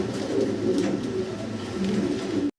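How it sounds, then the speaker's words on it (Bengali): A pair of Spanish pigeons in mili coloring coo steadily in soft, low, rolling calls, close by and continuous, with no talking. "ভাইয়ের কাছে আছে খুব চমৎকার এক জোড়া স্প্যানিশ কবুতর মিলি কালারের ভিতরে"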